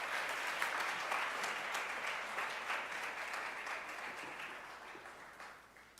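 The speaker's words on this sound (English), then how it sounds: "Let's have another round of applause for Ruth Anna." Audience applause at a political campaign meeting in West Bay, Cayman, a sustained wash of clapping that slowly fades toward the end.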